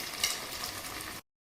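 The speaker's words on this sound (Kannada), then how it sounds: "ಮೀಡಿಯಮ್ ಫ್ಲೇಮಲ್ಲೇ ಇದನ್ನು ಫ್ರೈ ಮಾಡಬೇಕು." Paneer frying in oil over a medium flame, a brief steady sizzle with a small stir clink near the start, cutting off abruptly after about a second.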